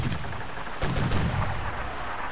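Pirate ship cannons fire in a video game, a couple of heavy booms close together over dense, roaring battle noise, loud and near.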